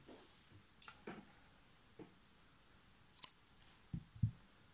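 Scissors snip through crochet yarn in a few quick, separate cuts, with small sharp clicks spread out over a few seconds in an otherwise quiet room.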